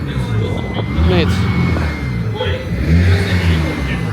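A rear-wheel-drive car revving hard as it drifts at a motorsport event, a loud, mid-pitched engine roar rising and falling over several seconds while people talk nearby.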